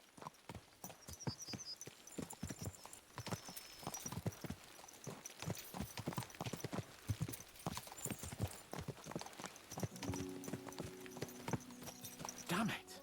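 Horses' hooves clip-clopping in Kingdom Come: Deliverance 2, a steady rapid rhythm of ridden hoofbeats running through the whole stretch, fairly quiet, with a voice talking over it and a brief whinny.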